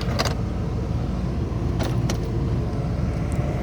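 A car with a failing transmission creeps along in low gear, giving a steady loud low rumble of engine and road noise heard from inside, with a few brief rattles and jingles on top.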